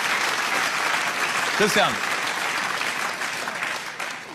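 A television studio audience claps in a dense, continuous wash of applause. A voice breaks in briefly partway through, and the clapping slowly tapers off toward the end.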